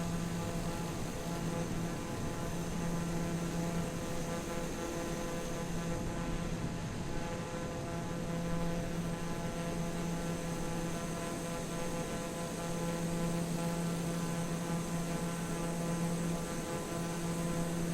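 Aircraft in Microsoft Flight Simulator flying through cloud, a continuous droning engine hum with steady tonal layers, even and unbroken throughout with no voices.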